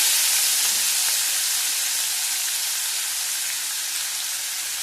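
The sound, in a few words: onions frying in a pan for chicken malai curry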